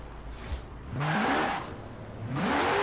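Car engine in the racing game Forza Horizon revving in two rising bursts, pitch climbing steadily each time after a quieter lull, fairly close and moderately loud with no talking.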